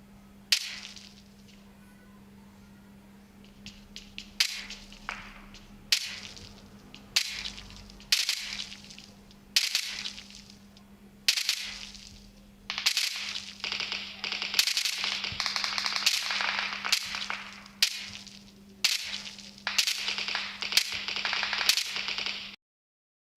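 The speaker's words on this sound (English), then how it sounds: "I'm going to put this mic right next to the earbuds and I'm going to press the fire button" Video game gunfire played back through OnePlus Bullets Wireless Z wireless earbuds, sharp tinny shots repeating in separated bursts, at first single cracks a second or so apart, then denser rapid volleys, over a faint steady electronic hum.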